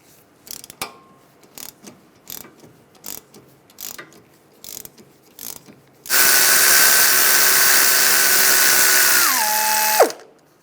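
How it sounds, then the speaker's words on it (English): A power tool with a 7mm hex socket removes the front brake caliper bolts on a 2006-2009 Mercedes-Benz E350. It starts with a few short ratcheting clicks, then a loud steady whine that slows and stops. No one talks. "Using a 7mm hex socket, take these caliper bolts out."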